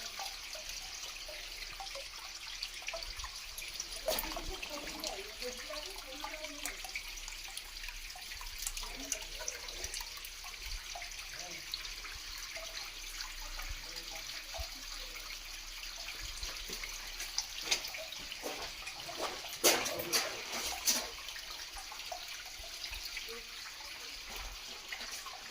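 Steady rushing water from a waterfall at a pilgrimage shrine, a broad continuous wash of flow with a few brief louder bursts, present throughout without a break.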